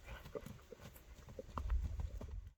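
Hooves of a horse clip-clopping at a horse auction, a faint, uneven run of light knocks close by with a low rumble swelling near the end and no talking over it.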